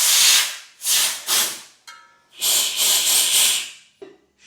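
Compressed air blasts through a part during gasket work on a V8-swapped Honda CRX engine, producing loud, close hissing bursts: several long blows separated by short gaps, ending with a brief puff.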